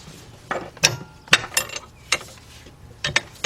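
A ratchet tightens engine bracket bolts on a 2006 Kia Sportage 2.7 during engine removal, making crisp separate clicks in short uneven strokes, close and clear with quiet gaps between them.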